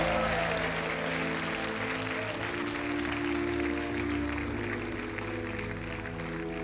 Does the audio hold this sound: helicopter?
no